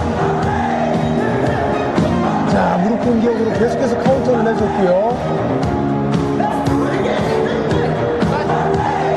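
A loud crowd roars and cheers at a Tyrone Spong vs. Azem Maksutaj kickboxing match, forming a continuous wash of noise beneath a commentator talking throughout.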